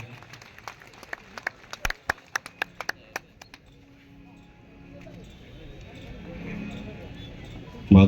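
Scattered hand claps from an audience at a public tribute ceremony for a police officer, attended by a member of parliament. A handful of sharp individual claps ring out, then fade into a murmur of low background talk and hum.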